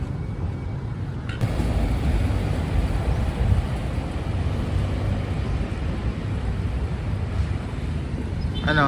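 Steady wind buffeting the microphone in hot weather in Davao, a broad low rumble that thickens after the first second and stays constant, with traffic-like noise underneath.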